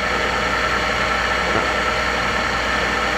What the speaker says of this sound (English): So I'm going to go ahead and start the grinding motor